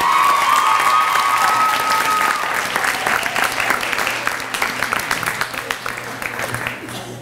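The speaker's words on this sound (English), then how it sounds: "How about a round of applause for all of our inductees?" Sustained applause from a middle school audience honoring National Junior Honor Society inductees at a 2016 induction ceremony, dense and steady clapping that gradually thins and tapers off.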